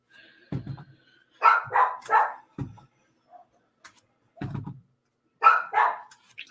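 Nearby dogs let out loud barks in quick pairs and clusters, separated by brief pauses, with a few fainter yips in between.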